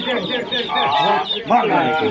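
Broiler chickens at a poultry market cluck and chatter continuously in a dense, close flock, the calls overlapping with human voices talking in the background.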